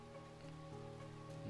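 Pouring rain in the video game Sword Art Online Hollow Realization: a steady wash of rain noise under a sustained tonal music or ambient bed, holding at an even level throughout.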